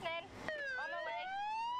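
Ambulance siren in Emergency 4 with a Hong Kong mod, a clear wailing tone that sweeps down then rises, close and loud, preceded by a brief burst of a different tone.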